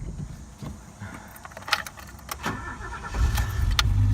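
A rusty 1987 Alfa Romeo Milano 75 with a 2.5 V6: a few clicks and key jingles, then the engine catches into a loud, low, rough rumble close by.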